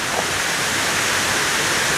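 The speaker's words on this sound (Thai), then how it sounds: "นี่น้ำตกอยู่ตรงนี้" The seventh tier of the Huai Mae Khamin waterfall roars as a steady, dense rush of falling water, loud and unbroken with no voices.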